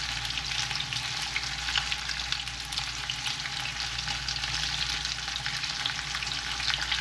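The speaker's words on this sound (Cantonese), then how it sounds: "因為加咗香茅啦，再煎多一陣。" Pork chops with chopped lemongrass sizzle in a frying pan for a Vietnamese broken-rice dish, a steady, even crackling hiss that holds throughout with no talk.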